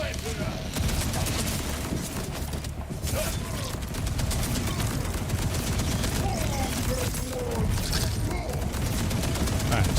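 Dense, sustained gunfire in Borderlands 4: rapid crackling shots and mechanical clatter run continuously under an intense combat mix, steady and loud throughout, with no pause in the shooting.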